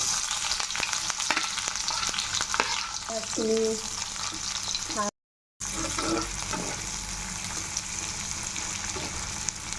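Onions frying in oil in a wok with cumin seeds, a steady close sizzle broken by stirring scrapes and one brief dropout midway.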